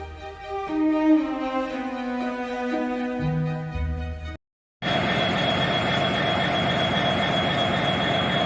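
Train wheels screeching on the rails, loud and steady with shifting squealing tones for about four seconds, then a sudden brief gap before a dense, harsh grinding roar that continues to the end.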